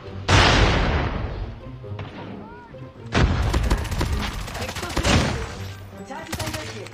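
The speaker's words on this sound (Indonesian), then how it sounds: "kalau dia pakai shotgun ya" Shotgun fire in a video game: several loud, sharp blasts with decaying tails, spaced irregularly over a few seconds, with people talking between the shots.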